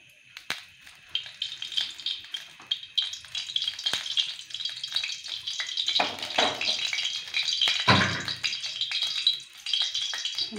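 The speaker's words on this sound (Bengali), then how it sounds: "তেল দিয়ে দিলাম কড়াইতে, কড়াইটা আমার গরম হয়ে গেছে" Oil sizzles in a hot wok with a bright, steady hiss that swells midway, broken by light rattles and clinks, while a person talks over it.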